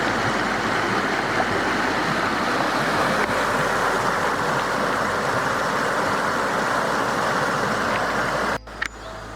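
Waterfall along the Bruce Trail in Ontario, a steady loud broadband rush of falling water heard up close, unbroken for several seconds before a brief handling bump near the end.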